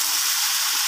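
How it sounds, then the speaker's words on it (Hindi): Water poured into a pan of frying onions with ground coriander and spices, a loud continuous hiss and sizzle of steam up close, sustained without a break. "अब इसमें डाल देती हूँ मैं थोड़ा सा पानी।"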